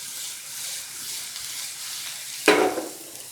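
Two to three tablespoons of oil with grated garlic sizzle steadily in a pan. The hiss flares into a louder burst partway through as the mix is stirred or disturbed.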